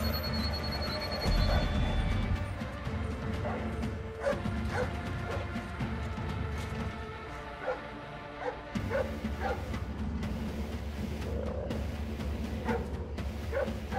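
Guard dogs in the stealth game Splinter Cell Blacklist, repeated barking, yipping and whimpering at moderate distance, scattered over a low game ambience with mechanical clicks and occasional sharp noises.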